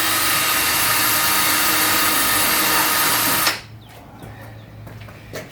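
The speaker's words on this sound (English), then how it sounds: "I'm going to drill the pilot holes before we put the screws in" A power drill bores pilot holes into wood for a raised garden bed, running as one loud, steady whir for about three and a half seconds before cutting off into near silence.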